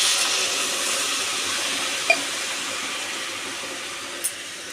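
Pabda fish curry broth boiling in a pan, a steady low bubbling hiss that holds evenly throughout, with a couple of faint brief clicks.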